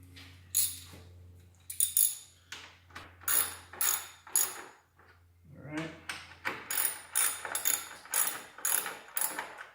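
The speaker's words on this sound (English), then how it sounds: "I'm gonna torque it down with the ratchet" Ratchet wrench torquing down a bolt on a car radiator in a garage, close rapid clicking in repeated bursts with brief pauses between strokes, over a low hum.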